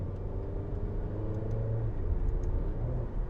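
A Maserati Grecale luxury SUV with an 8-speed torque-converter gearbox accelerating, its engine giving a close, steady rumble that briefly drops in pitch during a quick gear shift.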